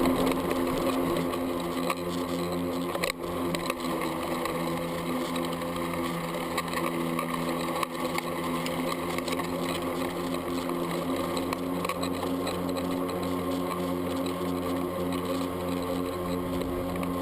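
Kobalt 40V Max battery lawn mower mowing grass, a continuous steady electric motor whine with a blade hum, close and loud, running evenly throughout with only small dips.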